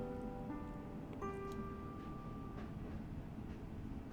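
A cartoonish hamster train arriving at a station in the cozy game Call of Boba, with a steady rolling rumble, soft ticking, and a few sustained tonal chimes or whistles over continuous background noise.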